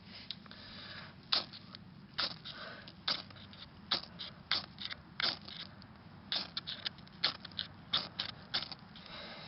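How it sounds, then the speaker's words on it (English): A steel rod scraped with flint to throw sparks into kindling for a fire, making about a dozen sharp, rasping strokes at an uneven pace, close up and with no voices. "I'll put the steel rod right here, and then I'll scrape it."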